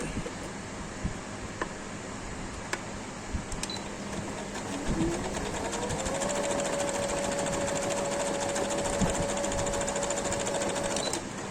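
A sewing machine stitches the shoulder seam of a baby frock in a steady, fast mechanical whir. It starts with a few scattered clicks, then speeds up and runs continuously, close and loud, with a rising hum.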